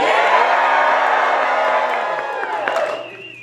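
Audience cheering at the 2025 Chicharra Poetry Slam Festival final stage: a loud, sustained roar of whoops and shouts from a packed crowd, tapering off near the end.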